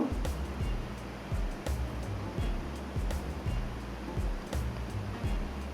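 Egg frying in a pan with chili and onion, broken into scrambled bits, gives a steady close hiss of sizzling punctuated by periodic soft scrapes and knocks of a spatula.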